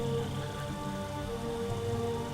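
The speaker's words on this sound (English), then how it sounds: "the rain is actually accumulating inside of this little puddle here" Steady, soft rain patters down in Starbound, giving a faint, even wash with no voices, backed by a quiet tonal hum of game ambience.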